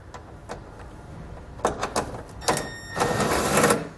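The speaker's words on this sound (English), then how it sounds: "We can take these out with a 7mm socket," A 7mm socket wrench removes the bumper panel bolts on a 2020 Chevrolet, close up: a few scattered clicks, then short bursts of rapid ratcheting, with no talking.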